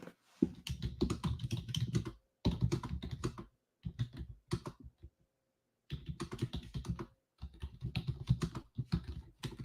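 Bursts of rapid computer keyboard typing, close and clear, with clicking keystrokes in several runs separated by short pauses.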